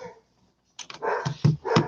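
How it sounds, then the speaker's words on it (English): Several dogs bark close by in a quick burst of sharp, overlapping barks and yips after a brief quiet moment. "I'm going to go see to the dogs."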